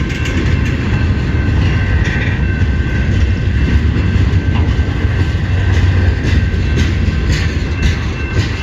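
A long CN freight train rolls past close by at South Rockwood, a steady loud roar of wheels and rumbling cars with faint rhythmic clacking throughout.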